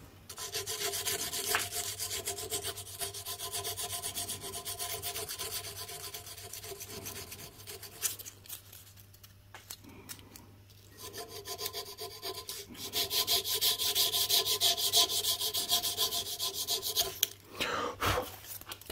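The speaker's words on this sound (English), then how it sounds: "Where's my sandpaper? Maybe I can do a little trick with that as well." Sandpaper rubs on a front brake part of a Suzuki Kingquad ATV, producing a close, continuous scratchy rasping in steady back-and-forth strokes that fade briefly midway, then resume more strongly before stopping.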